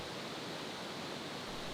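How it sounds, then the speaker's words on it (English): Steady broadband roar of falling water at the upper part of the Sgwd Clun-gwyn waterfall in the Brecon Beacons, constant and close, with no voices. "This here is the upper part of the first waterfall"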